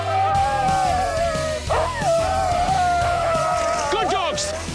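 Sled dogs yip and bark in excited bursts during a race along a kilometre course through a village, high whining calls over constant running noise, with a person shouting encouragement nearby.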